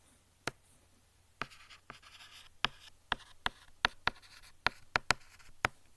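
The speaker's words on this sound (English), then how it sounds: "Let me write here." Handwriting with a pen on paper: a quiet series of short, sharp tapping strokes, irregular at first and then quickening, close and alone with no talk.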